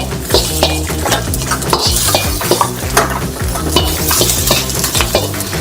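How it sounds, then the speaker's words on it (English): Onions frying in oil in a pan, stirred as they cook for lo mein, with a steady loud sizzle and repeated scraping clinks of the utensil against the pan, no voices. "Add a little bit of oil and onion. Stir until your onions are about a quarter ways done."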